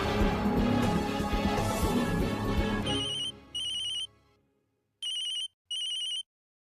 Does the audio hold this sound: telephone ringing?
yes